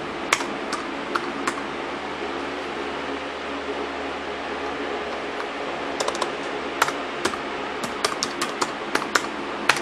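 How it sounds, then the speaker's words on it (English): A name is typed on a Lenovo ThinkPad laptop keyboard in scattered bursts of crisp, close key clicks over a steady fan-like hiss, sparse at first and denser near the end. "Let's type in my name here."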